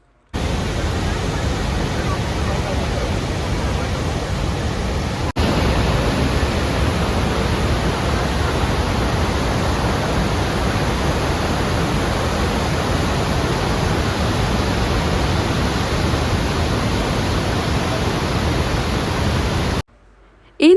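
The Rhine Falls waterfall in Switzerland roars from up close, seen from a boat: a loud, unbroken rush of crashing water that stays steady for around twenty seconds, then cuts out briefly near the end.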